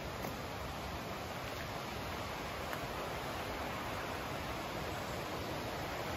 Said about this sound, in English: Lovely sound of running water there